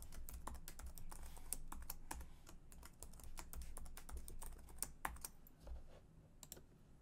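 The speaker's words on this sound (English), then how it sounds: "And I have to re-enter my password." Password entered on a computer keyboard during a BIG-IP virtual edition setup in Microsoft Azure, heard as rapid, steady key clicks over about seven seconds, fairly quiet and close, with no talking.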